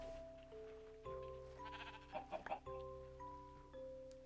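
Minecraft sheep bleat in short, faint repeated calls set among other game sounds, with a brief flurry of rustling clicks partway through.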